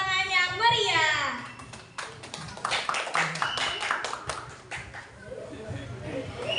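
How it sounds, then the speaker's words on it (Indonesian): Parents and guests clap for a children's profession-themed fashion show at a school year-end performance, a burst of scattered handclaps in the middle with voices talking over and around it. "Berikan tepuk tangan yang meriah."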